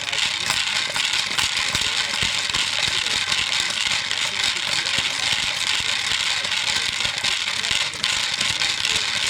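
A homemade jig spins a tube of tumbling rock used to finish a knife, giving a dense, steady rattling and scraping churn that runs unbroken throughout at a loud level.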